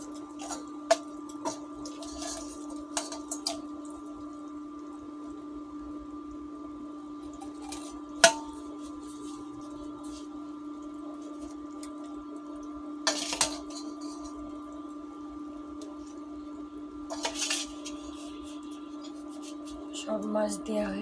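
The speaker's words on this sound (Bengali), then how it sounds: "সব মাছ দেওয়া হয়ে গেছে। ভালো করে নেড়ে দিলাম।" Fried Kalbaus fish pieces go into a simmering curry that is then stirred, making quiet, scattered clinks and clatters of a utensil against the pot over a steady low kitchen hum.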